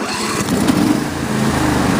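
A John Deere E120 lawn mower engine is already running, a loud, close, steady rumbling drone with slight wavering in pitch.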